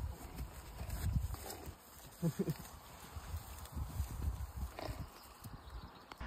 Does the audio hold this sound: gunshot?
no